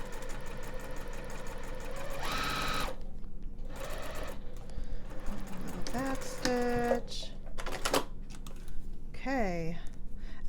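A sewing machine runs in bursts while a swaddle blanket is stitched, with short whirring runs broken by pauses, clicks and handling noises close by, and a voice speaks briefly.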